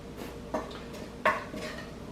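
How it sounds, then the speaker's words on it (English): Spices being mixed into grape leaf stuffing in a bowl, heard as a few soft clinks and scrapes of a utensil, two sharper taps standing out, close and alone with no talk. "we're just going to mix all those spices in there"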